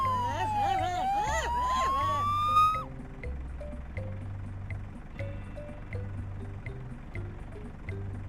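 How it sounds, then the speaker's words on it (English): A police car siren wails in rising and falling sweeps for a few seconds, then cuts off, leaving a soft rhythmic backing beat. "Police car."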